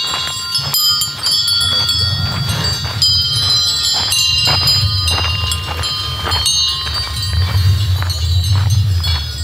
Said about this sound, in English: Hear the bells? Look, cows.